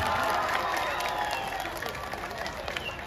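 An audience at a Thiruvizha pattimandram debate event claps steadily together, a dense, continuous patter of many hands for the full stretch, with scattered cheering and some voices mixed in.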